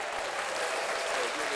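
An audience claps through a radio show broadcast, a steady dense wash of applause that holds at an even level from start to finish.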